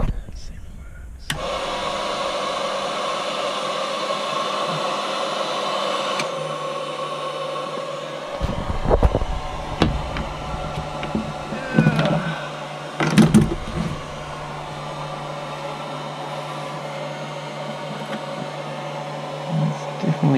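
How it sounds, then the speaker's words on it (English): A 12-volt hairdryer fitted under the window of a BMW E30 as a demister blows warm air with a steady whirring hum, interrupted by a few clunks and rustles of handling partway through. "It's definitely got warm air coming out of it."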